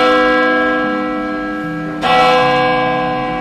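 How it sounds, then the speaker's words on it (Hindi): A church bell tolls with a sustained, ringing harmonic hum, struck again partway through so a fresh loud stroke swells over the lingering decay, with no other sounds around it. "अचानक चर्च के घंटी बजने से"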